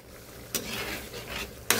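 Food is stirred in a sizzling oil-based pan while cooking laing, a continuous frying hiss with scraping strokes and two sharp utensil clinks against the pan, close and fairly quiet, no talking.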